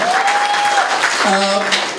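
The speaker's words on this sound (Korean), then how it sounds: "다시 한번 격려와 뜨거운 응원의 박수를 부탁드리겠습니다" A crowd at a lecture event applauds warmly, loud continuous clapping across the whole stretch, with a voice audible over it partway through.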